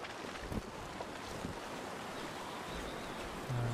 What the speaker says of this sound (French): On a du vent, il fait froid.